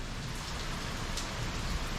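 Rain falls steadily in a dense, even hiss of drops with no break and no voices, on a rainy Fourth of July.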